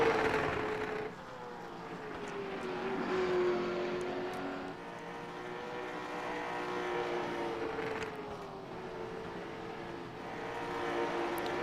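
Late model stock cars racing around a paved short track, a moderately distant engine roar that swells and fades as cars pass, with overlapping whining pitches and no talk.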